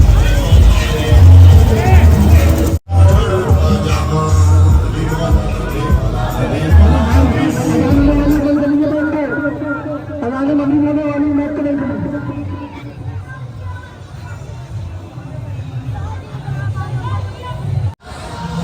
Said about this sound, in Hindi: भाइयों भीड़ देखिए कितनी है यहाँ पे।